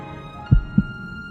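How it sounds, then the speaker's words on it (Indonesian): An anime heartbeat effect gives two deep, heavy thumps close together over a soft sustained hum, like a single lub-dub pulse. "Detak jantung Kuje pun begitu bergetar."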